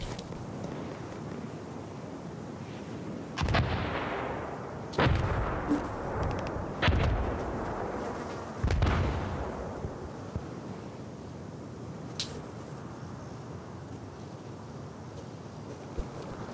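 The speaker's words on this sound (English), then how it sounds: "Mortars inbound on Upper Tower." Mortar fire in a military video game, four heavy booming impacts a second or two apart over a low ambient rumble, with a fainter thud later.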